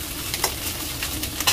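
Fried rice is tossed and stirred in a pan over high heat, producing a steady close sizzle with scraping and clattering strokes at irregular intervals, heard without any voices.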